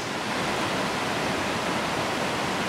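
Steady, dense rush of water pouring over Horeb and Grail Falls in Tasmania, a constant broadband roar that stays even and close throughout with no voices.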